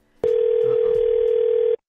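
A single steady telephone line tone opening a prank phone call, loud and unbroken for about a second and a half before cutting off abruptly into silence.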